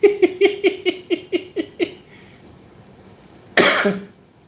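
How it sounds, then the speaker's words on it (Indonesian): A rapid run of about eight short coughs in a row, close and fairly loud, then a pause and one harsher cough or throat-clearing burst. "Saya lagi batuk, jadi ketawa sedikit sudah batuk."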